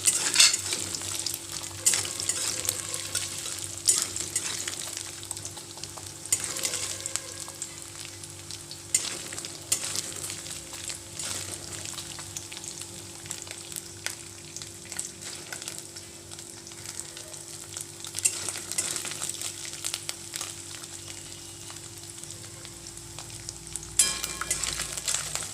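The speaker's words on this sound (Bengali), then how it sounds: "এই যে কুচিয়ে রাখা ছোট ছোট করে নারকেলগুলো এতে দিয়ে ভালোভাবে ভেজে" Chopped coconut pieces frying in hot oil for ghugni, a steady close sizzle that runs unbroken throughout with light stirring and no voices.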